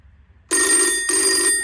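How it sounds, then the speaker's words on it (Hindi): A 52-year-old rotary telephone rings with its electric bell, two bright metallic bursts, loud and close, after a moment of near silence. "और ये रिंग है, आपको इसकी रिंगटोन सुनाता हूँ। इसकी रिंगटोन बड़ी ही प्यारी है"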